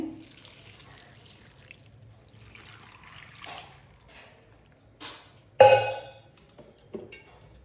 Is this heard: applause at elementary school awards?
no